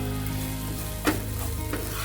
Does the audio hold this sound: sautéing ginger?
yes